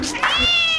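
A black cat lets out a single close, loud, drawn-out meow that rises and then holds its pitch.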